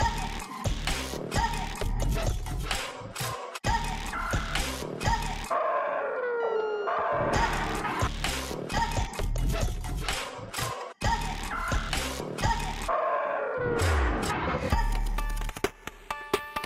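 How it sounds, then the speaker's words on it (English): A sampled wolf howl from the Soundpaint Wild Noises library, long rising and falling wails set inside a loud, dense mix of music and percussive hits throughout. "That howling wolf."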